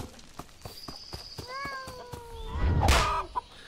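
A cat meowing in the video game Sir Whoopass, a clear, close meow with a rising then falling pitch, followed by a louder second cry, over ticking game sounds and a faint voice.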